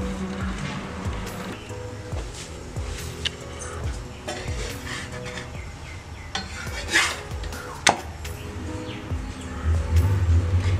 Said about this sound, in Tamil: இப்போ இதை வந்து ஃபோர்க் வச்சு இந்த மாதிரி குத்திக்குவோம்